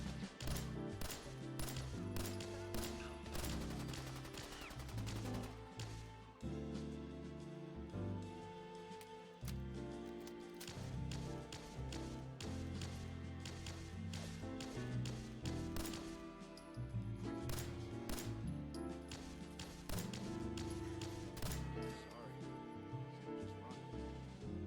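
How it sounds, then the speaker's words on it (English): Explosive pistol gunfire during a Fallout video game battle: rapid, repeated sharp shots and blasts going off throughout, dense and loud over game music and other combat noise, continuing steadily for the whole stretch. "time to break out the explosive fight pistol"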